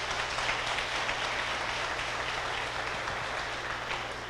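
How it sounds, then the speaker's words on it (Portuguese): Church congregation clapping for Jesus during a sermon on Elisha, a dense, steady wash of many hands at moderate level over a low constant hum, continuing evenly throughout. "renda para Jesus uma salva de palmas"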